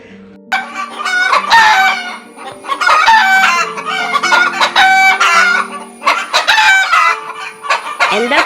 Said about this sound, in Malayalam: കോഴിക്കൾ മുട്ടിട്ട് ഇറങ്ങുമ്പോൾ ഒച്ചയും വിളിയും കൂടുതലാണ്